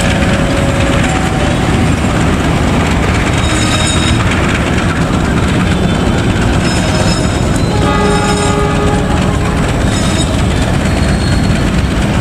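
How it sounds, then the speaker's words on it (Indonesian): Mutiara Selatan passenger train pulling into track 3 at Rancaekek station, a loud, continuous rumble of wheels and cars close by, with faint horn tones and rail clatter running throughout. "ternyata datang juga kereta api Mutiara Selatan yang segera masuk di jalur 3 stasiun Rancayakek ya"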